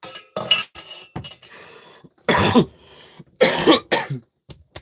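Several harsh, wet coughs from someone recovering from flu come in separate bursts with quiet gaps between, close by, alongside faint clinks of dishes.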